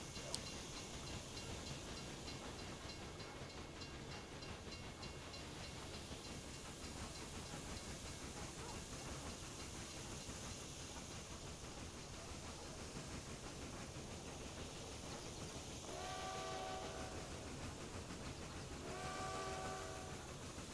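Steam trains running in the video game Railroad Empire 2, a continuous rumbling, hissing rail bed of sound throughout, with two short whistle blasts near the end.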